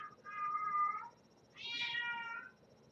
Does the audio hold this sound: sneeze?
no